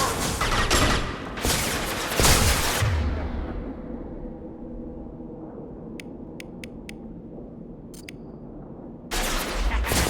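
Gunfire and incendiary ammo in Mass Effect 2: loud bursts of rapid shots, a quieter rumbling stretch with a few sharp metallic clicks, then heavy fire again.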